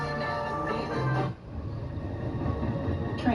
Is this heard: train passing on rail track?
yes